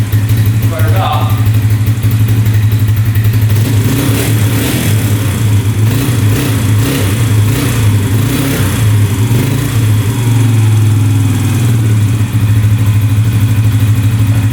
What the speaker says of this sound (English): Fired up, she's idling good.